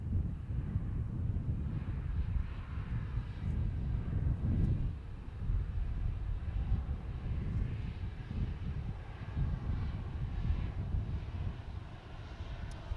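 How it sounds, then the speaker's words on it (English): Qantas Boeing 737-800 taxiing past outdoors, a steady low jet rumble that swells and fades over about thirteen seconds, roughened by gusty wind buffeting the microphone. "now taxiing straight in front of us, Victor Hotel, Victor Yankee Alpha, a Qantas 737-800, going to Melbourne"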